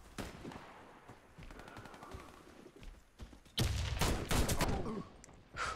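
Automatic gunfire in the online shooter Warface, with softer shots early on giving way to loud, close rapid bursts and sharp cracks in the second half, with no talk.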